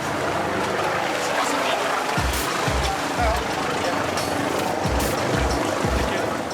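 Steady roar of a nearby coastal rescue helicopter with rhythmic low rotor thumps, loud and continuous, with wind-like noise throughout.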